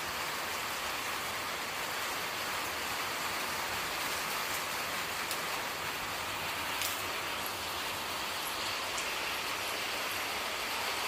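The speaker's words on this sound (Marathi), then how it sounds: "पाऊस येतो इथं." Steady rain falls continuously for the whole stretch, a dense, even hiss with no voices or other distinct sounds standing out.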